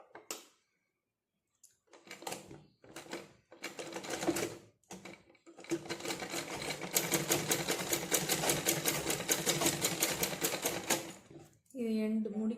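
Sewing machine stitching along a folded blouse edge: short stop-start bursts of rapid mechanical clatter build into a long steady run of fast needle ticks, close and fairly loud, then stop, with someone speaking briefly at the end.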